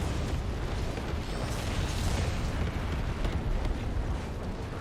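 A distant flamethrower in the real-time strategy game Tempest Rising fires in a long roaring, crackling rush, broadband and continuous with small bursts throughout, no voices.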